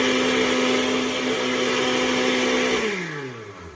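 A blender running empty without water for a Haitian herbal remedy, a loud, steady whirring drone heard alone that holds evenly, then winds down in pitch near the end.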